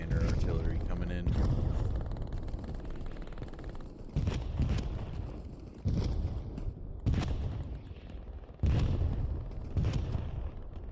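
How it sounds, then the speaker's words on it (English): Commander artillery barrage in Hell Let Loose: a series of heavy booming impacts, five or six spaced a second or two apart, loud and rumbling, mixed with background gunfire. "Some commander artillery coming in."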